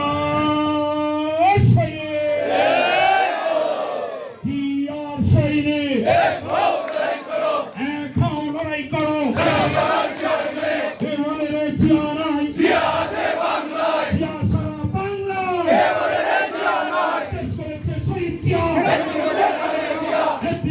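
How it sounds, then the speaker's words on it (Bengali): At a Krishak Dal workers' meeting in Sylhet, Bangladesh, a leader shouts political slogans and a large crowd roars back in unison, loud call-and-response chanting repeating in waves across the whole stretch. "আমি স্লোগান দিব, সকল উত্তর দিবেন।"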